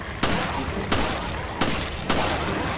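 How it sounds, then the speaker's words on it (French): Pistol gunshots in the video game Resident Evil Revelations: four sharp, loud shots spaced roughly evenly apart, each cracking out over a steady game ambience. "2 headshots au pistolet"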